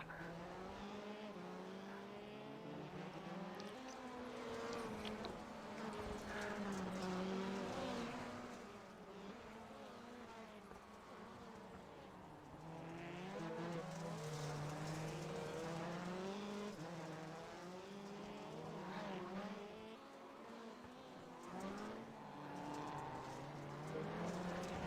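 Race cars in a digital rallycross qualifying round on a video game's Daytona track whine and rev continuously, engine pitch rising and falling through gear shifts as cars pass and chase each other, with no voices.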